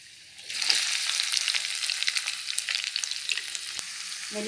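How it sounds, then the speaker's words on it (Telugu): Spices for a tempering sizzle in hot oil while making a drumstick-leaf (munagaku) and sesame-cake dish; a loud, dense crackle bursts in after a brief quiet start and holds steady, with small pops throughout. "యాడ్ చేస్తున్నాను పోపుది కాస్త పోపు మంచిగా పెట్టుకోవాలన్నమాట"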